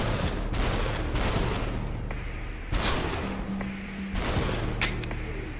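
Gunshots in Superhot VR, several sharp bursts spread across the clip over steady game background noise, with a low tonal hum in between.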